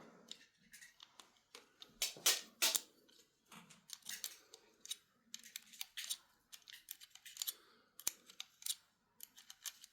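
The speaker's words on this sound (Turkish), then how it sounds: "Sekiz anahtarla söküyoruz." Small metal parts of a Tofaş ignition distributor are loosened with an 8 mm wrench, giving a run of close, sharp clicks, ticks and scraping taps in irregular bursts, with no talk over them.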